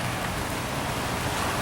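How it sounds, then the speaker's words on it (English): Steady rain falls in a dense, even hiss, close and continuous with no talk over it. "still raining."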